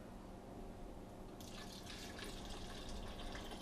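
Liquid is poured into a pot of cauliflower soup, a continuous close splashing gush that brightens partway through over steady kitchen noise.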